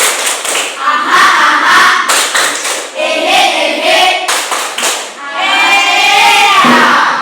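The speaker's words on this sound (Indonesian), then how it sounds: "Tepuk semangat." A school class claps a rhythmic 'tepuk semangat' pattern together, sharp, loud bursts of hand claps in quick repeated groups with short pauses between, with children's voices chanting along.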